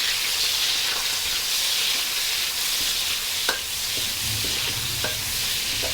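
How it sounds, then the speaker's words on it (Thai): Shrimp sizzle in a little oil with golden garlic in a hot pan, a loud, constant frying hiss broken by a few faint stirring clicks, with no one speaking. "น้ำมันนิดหน่อยนะคะ ใส่กุ้งลงไปเลยค่ะ"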